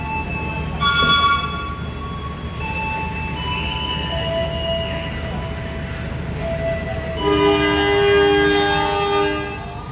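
A train rumbles and creaks as it pulls away from Tugu station in Yogyakarta, Indonesia, with long sustained horn-like tones rising near the end.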